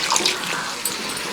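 Water from boiled breadfruit poured into a masala mixture in a home kitchen, a steady splashing pour that runs for about a second and a half, close and moderately loud.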